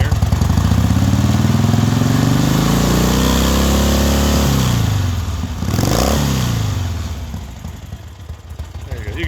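A 1976 Harley-Davidson Ironhead XLH Sportster 1000cc engine runs loud and close, its throttle rising and falling in repeated revs, with a brief dip before it settles back to a rough, steady idle.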